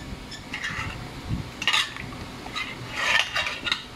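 Soft clinks and taps of a fork poking marinated chicken in a bowl, irregular little jabs and scrapes against the dish, close and fairly quiet.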